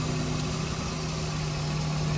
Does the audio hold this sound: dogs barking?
no